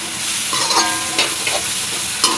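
Tomatoes, onion and coriander fry in a pan for egg tawa pulao, a bright, close sizzle with stirring scrapes and clinks of a spatula, steady throughout.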